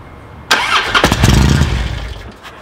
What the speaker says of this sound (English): At least we know it starts. We can hear the engine run.